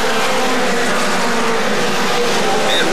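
Pure Mini race cars accelerate hard down the front straightaway at Atomic Motor Speedway in 2004, a loud, continuous engine roar filling the whole moment.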